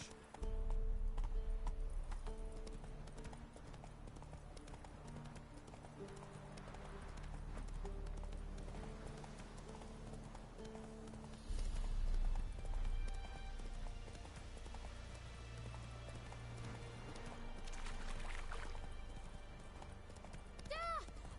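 Roach, the horse in The Witcher 3, clip-clops at a steady trot, hooves clear and close beneath game music, with spoken voices breaking in at moments.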